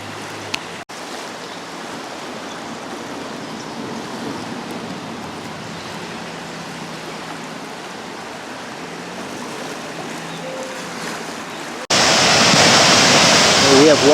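Water gushing up from a mine borehole that reaches down to the Clark vein, a steady broadband roar like rushing water that stays constant, then jumps sharply louder near the end.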